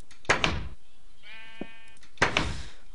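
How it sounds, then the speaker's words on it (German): A single sheep bleats in Minecraft, a short wavering bleat heard clearly and close, set between two soft thuds with no talk over it. "Schafe."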